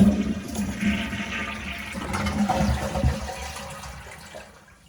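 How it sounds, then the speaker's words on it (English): A toilet with a newly installed bidet attachment flushes loudly and close by, a rushing surge of water that gradually drains and fades over several seconds. "Now for good measure, we'll give the toilet a flush."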